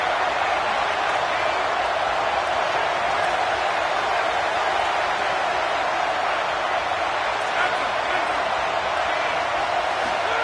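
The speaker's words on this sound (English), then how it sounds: "Decibels rising as the crowd gets behind this defense on third down." Steady, loud stadium crowd roar in a college football video game as fans cheer the defense on third down, a dense continuous wash of noise with no break.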